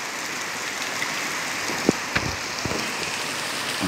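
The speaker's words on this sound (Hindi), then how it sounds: "काफ़ी तेज़ बारिश हो रही है।" Heavy rain in Allahabad pours in a steady, dense hiss, with a few louder splashes and knocks breaking through.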